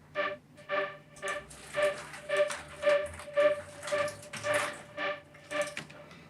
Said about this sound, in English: It's just this machine sound.